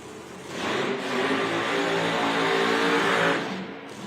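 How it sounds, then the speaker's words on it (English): A drag racing car engine roars at high revs for several seconds during a burnout at an IHRA Outlaw Nitro event, rising in and tailing off, loud and sustained with no talking. "Jason Scruggs doing his burnout."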